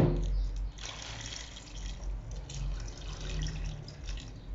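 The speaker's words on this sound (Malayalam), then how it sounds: "എന്നിട്ട് നമുക്ക് വളരെ കുറച്ച് വെള്ളം ഒഴിച്ചു കൊടുക്കാം" A small amount of water is poured into kootu curry, a Kerala sadhya dish of chickpeas and yam, cooking in a pan, giving a steady close splashing trickle for several seconds with no talk.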